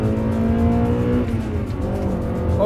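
A Honda Prelude 2.2 VTEC VTi engine roars steadily at high revs under hard acceleration, loud and close, with a thick droning hum throughout.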